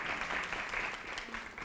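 Audience at a spiritual discourse gathering clapping, a dense steady patter of many hands that carries on under a faint voice throughout.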